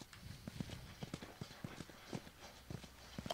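Horse hooves clip-clop in a steady, fairly quiet rhythm in The Last of Us on PlayStation 3, a string of soft repeated beats with no voices over them.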